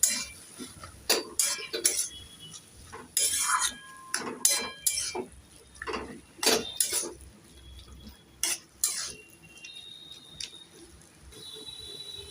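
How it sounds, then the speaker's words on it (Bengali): Turmeric stirred into taro greens with chickpeas in a pot, with intermittent metallic spoon clinks and scrapes against the pot, fairly close and moderately quiet. "এবার আমি দিয়ে দেব হাফ চামচ হলুদ গুঁড়ো একটু নেড়ে চেড়ে দিয়ে দেবো"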